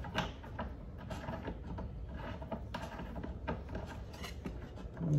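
Threaded metal pipe fittings for wooden wall shelves are twisted on by hand, producing a close, gritty scraping and rubbing that rasps on continuously in short uneven strokes.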